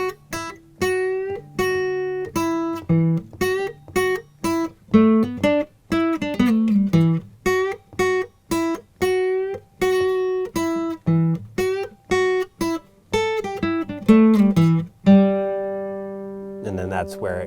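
The guitar solo from a song played slowly on a guitar as single picked notes and short bends in a clear, unhurried melodic line, with no talking over it.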